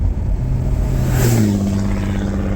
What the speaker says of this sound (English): That truck was loud.